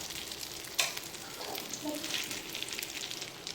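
Shrimp and fish tawa-fry on a flat griddle with a quiet, crackling sizzle, a sharp utensil tap near the start and faint spatters scattered throughout.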